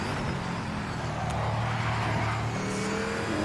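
Mosler MT900R race car in Project Motor Racing, its engine droning steadily and loudly throughout with a low sustained tone, no voices over it.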